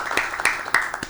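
A short burst of applause welcomes pastors at a church gathering, a handful of sharp, close claps scattered across about a second.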